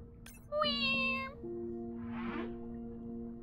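Humpback whale song in the underwater game Beyond Blue: a sharp click, then a loud, cat-like wailing call with bright harmonics, followed by a softer rumbling groan over a constant low hum, with no one talking.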